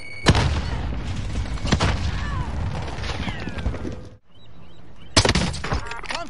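A grenade goes off in a first-person shooter video game, with loud booming blasts and crackling gunfire near at hand, a sudden drop to quiet, then another sharp burst.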